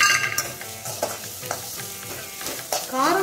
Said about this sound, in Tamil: வெங்காயத்தோடு நம்ம இந்த பச்சை மிளகாவும் க்ரீன் சில்லி ஃப்ளேக்ஸும் போட்டுக்கலாம்.